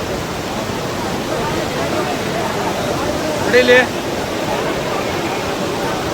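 High, fast-flowing river water at Kottiyoor Shiva temple after heavy rain, a loud broad steady rush filling the whole scene while a voice speaks briefly midway.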